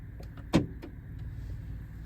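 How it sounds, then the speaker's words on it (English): A single soft clunk comes from the central door locks of a 2024 Vauxhall Corsa F facelift as all the doors lock, heard from inside the quiet cabin against a low idle hum. "To lock and unlock all the doors, press this."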